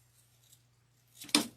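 Scissors snip floral stems for a white and yellow flower centerpiece, one crisp close cut coming near the end after a short near-silent pause.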